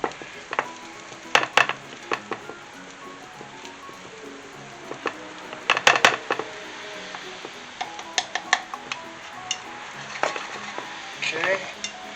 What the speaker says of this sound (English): Just gonna mix this around. Kind of make a roux,